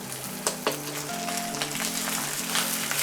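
Lettuce pancake batter sizzling in cooking oil in a pan over low heat, a lively, continuous crackle and hiss with a few scraping stirs, and faint background music underneath.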